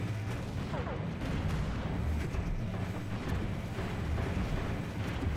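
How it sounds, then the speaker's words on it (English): Spaceship weapons firing in the space strategy game Stellaris, a steady dense rumble of booming blasts and explosions that continues without pause under the battle. "So when we get past this range, we can start firing."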